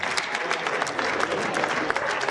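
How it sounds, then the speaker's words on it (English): A conference audience keeps up steady clapping, a dense continuous patter of many hands, brief and fairly close. "Please keep clapping till they get here."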